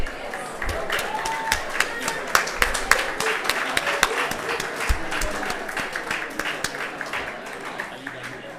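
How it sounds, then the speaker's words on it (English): An audience at a research conference anniversary event gives the competing teams a steady round of applause, dense clapping throughout with a faint voice mixed in. "Let's give them a big round of applause."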